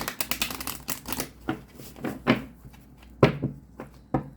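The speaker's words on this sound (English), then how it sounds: "One more shuffle." Tarot cards are shuffled and riffled nearby in a series of crisp, papery flicks and soft taps, irregular in rhythm, with no talking.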